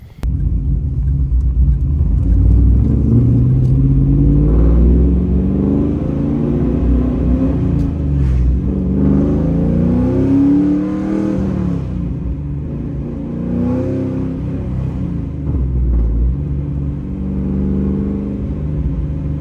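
A 2002 Pontiac Trans Am GMMG Blackbird convertible with a high-performance drivetrain and 4.30 rear gears, its engine rumbling deep and loud, revving and climbing in pitch as it accelerates, then easing back to a steady drone.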